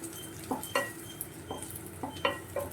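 Okra fries in hot oil in a pan, a soft sizzle running underneath as a utensil knocks and scrapes against the pan in several distinct taps.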